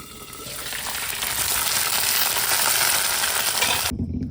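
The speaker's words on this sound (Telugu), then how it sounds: "ఇదిగోండి ఈ విధంగా ఫ్రై చేస్తారనమాట కడిగిన ఫిష్ని" Washed fish frying in a pan in a Mizoram kitchen in North Mualthuam, a dense, loud hissing sizzle that swells steadily before cutting off abruptly near the end.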